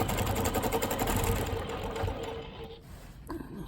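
Longarm quilting machine stitching a quilt, a fast, steady mechanical chatter that runs continuously, then briefly quiets and picks back up near the end, close and fairly loud.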